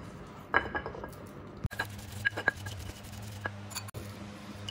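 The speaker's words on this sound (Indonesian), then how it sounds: "aku ulek dulu ya" A pestle grinding spices in a stone mortar, or ulekan, gives off scattered clinks and scraping knocks at close range, with a low background hum.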